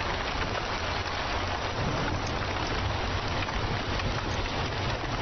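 Heavy rain pours down in a dense, steady hiss of countless drops hitting the ground, loud and unbroken for the full length with no voices.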